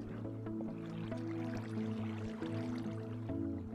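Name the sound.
water flowing into ship in Minecraft Tekkit video game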